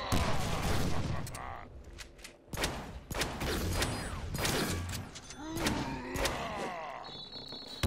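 A flashbang grenade goes off in the Deadpool video game amid a dense, loud mix of gunfire, bursts and game effects, with a sharp blast near the start and more loud hits throughout, alongside talking.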